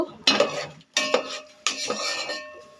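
Whole dried red chillies, black pepper, cloves, cinnamon and star anise dry roasting in a pan for chicken curry, with a spoon scraping and clinking against the metal in three close, distinct bursts.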